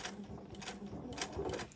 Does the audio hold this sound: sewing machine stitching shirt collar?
yes